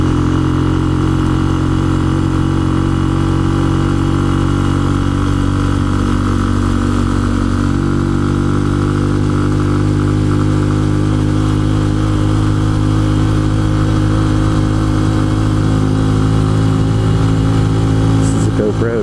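A Benelli 135 motorcycle engine droning loud and steady while climbing a steep road, with wind rumble and a rider talking over it.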